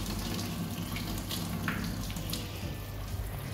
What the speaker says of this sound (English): Face rinse time.